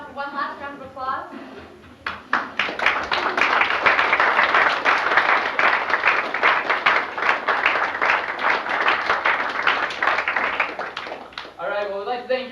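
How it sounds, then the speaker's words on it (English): Sustained audience applause for models at a fashion show aboard a cruise, loud and steady for about ten seconds, with a voice speaking briefly before and after. "I'd like to have models come out for one last round of applause."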